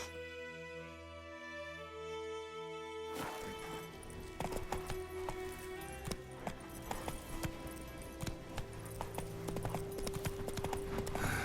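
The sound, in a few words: horse Roach galloping, hooves clip-clopping, in video game The Witcher 3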